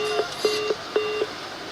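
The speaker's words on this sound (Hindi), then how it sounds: "फोन लाइन शायद समीर की डिस्कनेक्ट हो गई है" A phone line disconnect tone during a live business news call, a series of five short, evenly spaced electronic beeps, clear and alone.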